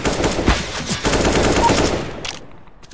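Loud rapid gunfire from a shooting video game, with several close bursts in quick succession that fade out near the end, leaving a couple of faint trailing sounds.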